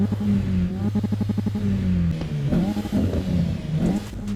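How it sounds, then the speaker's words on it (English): Car engine revving in the racing game Assetto Corsa EVO at Donington Park, a manual car climbing toward 6,000 RPM; a steady game engine note with a quick burst of rapid pulses, then several rising and falling revs, loud and alone. "let's rev this car and see."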